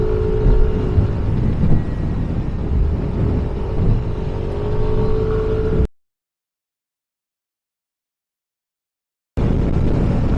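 A Yamaha NMAX 155 scooter cruising along a slippery road, its engine droning steadily at close range, cutting out abruptly to silence for a few seconds before resuming.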